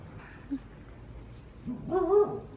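A dog barks a few times in a short burst at moderate distance, preceded by a faint isolated yelp against a quiet, low background hum.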